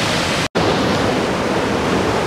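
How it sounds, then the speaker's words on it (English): Twin Falls in Ollallie State Park, a Pacific Northwest waterfall, roars as a steady, loud, broadband rush of falling water, broken only by a brief cut near the start. "And these waterfalls are everywhere."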